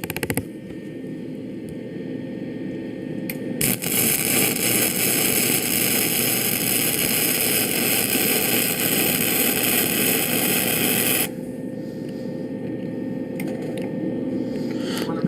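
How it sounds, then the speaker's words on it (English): MIG welding arc on a steel plate, a loud steady buzzing crackle that starts abruptly, holds continuously for several seconds and then cuts off, with machine hum before and after. "we'll go ahead, turn on the welding machine"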